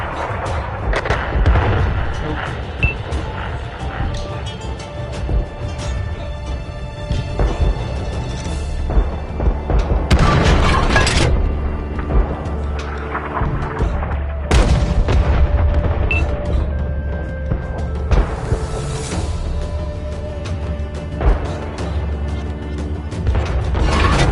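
Tank cannon fire in the World of Tanks video game, with heavy booms and mechanical clatter over a dense, loud rumbling battle background throughout.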